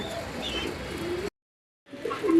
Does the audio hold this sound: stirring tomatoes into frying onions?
no